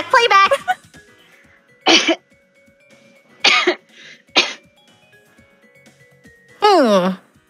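Someone imitates a coughing baby with several short, sharp vocal coughs and throat-clearing bursts separated by pauses, ending in a longer wavering whimper-like cry.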